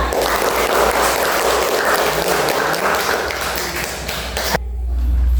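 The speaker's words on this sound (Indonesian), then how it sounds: "tepuk tangan untuk Faza" A school class applauding for a pupil named Faza, a burst of many children's claps filling the classroom for several seconds before cutting off abruptly, with no talk.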